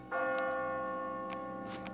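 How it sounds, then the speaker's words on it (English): A bell rings out at the exit marking the end of a stage in the Catherine video game, one sustained resonant chime that begins sharply and rings on steadily, alone with no talk. "that bell signals the very end of the stage"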